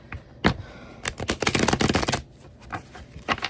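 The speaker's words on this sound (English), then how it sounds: "It's a bad shuffle." Tarot-style cards shuffle for a reading in quick riffling bursts, a loud flurry in the middle with a few sharp taps before and after, close and without talk.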